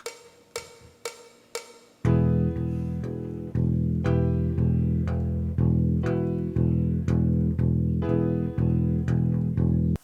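Four sharp count-in clicks, then a low E on bass guitar repeated in steady, even quarter notes, loud and close.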